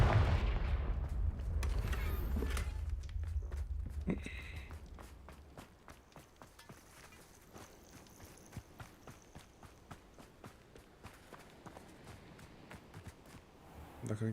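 A Confringo spell blast in the Hogwarts Legacy video game opens as a loud, rumbling burst that slowly fades, followed by a steady run of light, rhythmic footsteps in the game's quieter ambience.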